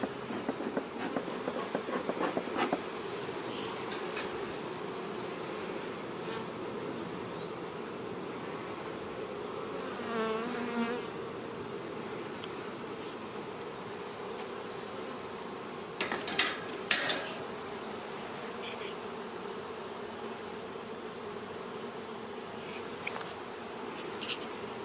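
Bees buzz at an active beehive in a steady, close drone, with a few faint handling clicks and rustles in between.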